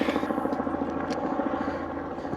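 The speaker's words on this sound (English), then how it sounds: "This helicopter guy's gonna steal my secret spot back here." A helicopter flies overhead above a high-water redfish fishing spot on a summer outing, its steady engine and rotor drone loud and continuous throughout.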